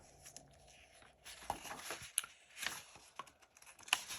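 Paper from a Rolife DIY miniature kit being cut out by hand, quiet scattered snips, rustles and crinkles close up, with no voices.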